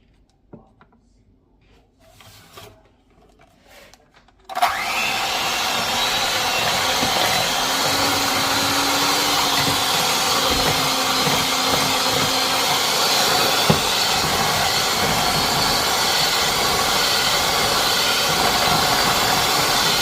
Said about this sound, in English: And then beat until smooth and blended.